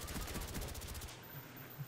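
Killstreak attack helicopter in Call of Duty Black Ops firing a rapid, evenly pulsed burst of gunfire for about a second, then stopping, leaving quieter background game noise; fairly faint overall.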